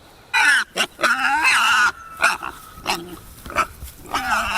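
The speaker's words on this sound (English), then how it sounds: "here are the pigs" Hungry pigs in a pasture let out loud, close squealing grunts in irregular bursts, some long and shrill, others short and snorting.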